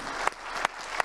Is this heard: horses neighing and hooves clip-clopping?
no